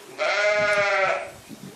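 A single close bleat from a goat or sheep in a farm barn, a drawn-out, wavering call of about a second followed by quiet barn rustle.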